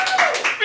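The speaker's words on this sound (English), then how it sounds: "Everybody's clapping for both." An audience claps during a comedy game show vote, a brief burst of dense applause over a noisy room.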